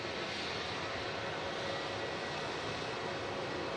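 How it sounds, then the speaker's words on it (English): Aer Lingus airliner rolling onto its stand, a low steady engine hum and hiss heard faintly at a distance, unchanging throughout. "a beautiful shot of the Aer Lingus arriving onto stand"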